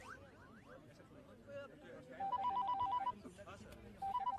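A telephone rings in short repeated bursts, twice in quick succession and again near the end, set against a murmur of background voices in a scene from a Hindi-dubbed South Indian action film.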